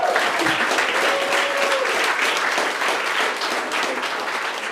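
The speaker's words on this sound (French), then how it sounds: "ben on peut l'applaudir" An audience applauds a performer at an evening show, a dense, steady wash of clapping that stays loud and even throughout, with a few faint voices mixed in.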